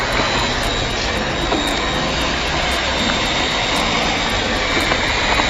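A LC3000A hot air welding machine blows steadily during welding, a continuous loud broadband rush like a jet, unbroken for the whole stretch with no talk.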